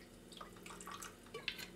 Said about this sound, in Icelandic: Setjum eitthvað svipað, lítið af vatni.